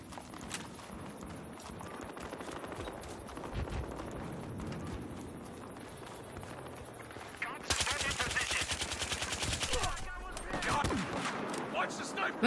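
Automatic gunfire in the shooter game Battlefield Hardline, rapid repeated bursts of shots throughout, growing denser and louder partway through, mixed with game footsteps and clatter.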